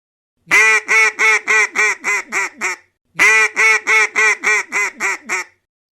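A duck quacks loudly and close in two bursts of about eight rapid quacks each, separated by a short pause, with no other sound around it.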